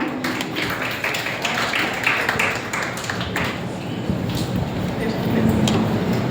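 A hall audience claps as a speaker is invited to the dais, with uneven, sharp hand claps and some background voices murmuring through the few seconds of applause.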